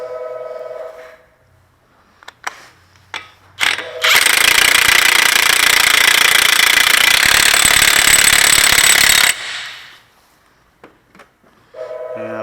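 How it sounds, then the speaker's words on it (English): An air impact gun hammers an axle nut tight on a GMC front wheel during a bearing replacement: one loud, continuous burst of about five seconds, preceded and followed by small clanks of tools in a quiet shop. "Now, if you don't have a good strong gun like this, or an air gun, you probably do want to hand torque them to specs."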